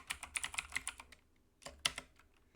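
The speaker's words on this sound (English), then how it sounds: "So now you'll notice if I type anything else," Close, clear keystrokes on a computer keyboard come in a quick burst of about a dozen taps, a pause, then a few more presses, with no voice over them.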